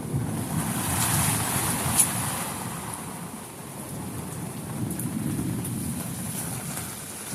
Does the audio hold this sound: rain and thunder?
yes